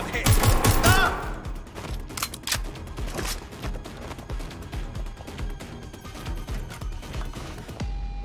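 Gunfire rattles through a Watch Dogs Legion firefight in London: loud, close bursts of rapid shots, heaviest at the start, then scattered cracks continuing steadily to the end.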